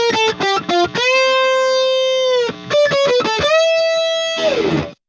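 Electric guitar plays an ordinary string bend, a clear singing note rising and holding, preceded and followed by quick picked notes, with a distorted tone and a noisy fade at the end.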